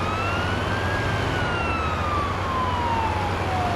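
A wailing ambulance siren from a driving video game sweeps steadily up and down over a constant engine and road hum, loud and continuous throughout with no talking.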